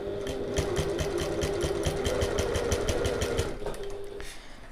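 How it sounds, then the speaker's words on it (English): A sewing machine top-stitches down the edges of a fabric bag at a short stitch length, its needle running in a fast, even rhythm up close before slowing and stopping near the end. "we'll just stitch down each edge using our top stitching length and 1/8 of an inch or 3mm away from the edge"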